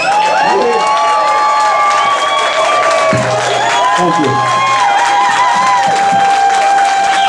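A pub audience at a Saturday jam session claps and cheers loudly and continuously, with whoops and crowd chatter mixed in and a voice briefly speaking near the end.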